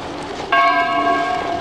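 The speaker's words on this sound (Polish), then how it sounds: "Wybija pełną godzinę." A church bell strikes the full hour near a town centre street, a single clear ringing stroke that starts suddenly and hangs with a long, bright, slowly fading resonance over faint street background.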